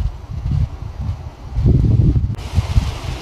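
Strong wind buffets the microphone on a mountain summit in the Southern Urals, a rough low roar that swells and gusts, loudest in the middle, with rustling close by.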